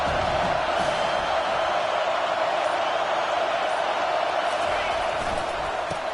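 Stadium crowd at a college football game with Auburn playing, a steady loud roar of cheering sustained throughout without a break.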